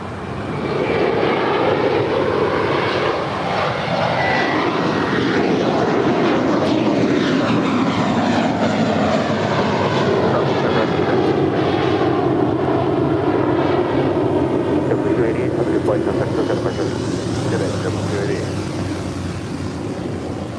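Jet engines of a Boeing 747-400ER in Coletta Air livery spool up at LAX, a steady broad roar with rising whine that holds loud and continuous throughout.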